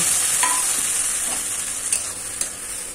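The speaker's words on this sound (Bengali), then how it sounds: "এবার গ্রেট করা আনারস দিয়ে দিচ্ছি" Grated pineapple sizzling and frying in a hot pan with fennel and deseeded, chopped dried chili for a Bengali-style pineapple chutney, a steady close hiss with a few soft stirring clicks and no talking.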